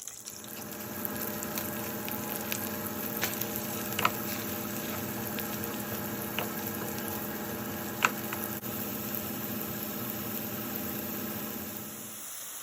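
Sliced leeks cook in melted unsalted butter with a soft, steady sizzle and scattered small pops, fairly quiet and unaccompanied by speech.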